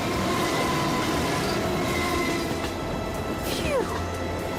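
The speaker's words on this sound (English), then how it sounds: "It's a tunnel! It's a train!" A train rumbles steadily through a tunnel during a blizzard, a continuous mid-level roar with faint rhythmic wheel clatter and a brief descending squeal near the end.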